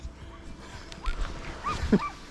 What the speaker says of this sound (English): the dogs still wanted to go on and go on. They were yowling.